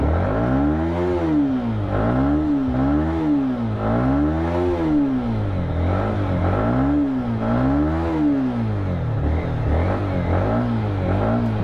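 A motorbike engine runs steadily just after starting, ridden on a long trip from Badrinath to Gurgaon, with a loud, continuous, rhythmically wavering throb close by and no talk over it.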